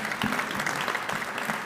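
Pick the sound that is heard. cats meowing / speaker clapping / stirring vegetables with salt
speaker clapping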